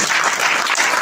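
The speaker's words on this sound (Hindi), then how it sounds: "एक बार जोरदार तालियां बजाकर" An audience at a kavi sammelan poetry gathering breaks into a brief, loud burst of dense clapping, close and unbroken.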